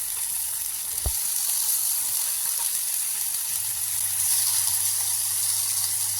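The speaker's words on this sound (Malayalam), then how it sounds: "ബാക്കിയുള്ള വഴുതനങ്ങയും നമുക്ക് ഈ രീതിയിലൊന്ന് ഫ്രൈ ചെയ്തെടുക്കാം." Brinjal pieces frying in a pan, a steady close sizzle and hiss throughout with one brief knock near the start.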